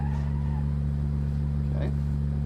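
Pickup truck in BeamNG.Drive with a struggling transmission, giving a steady droning engine hum that holds one strained pitch throughout, with a faint brief scrape partway through.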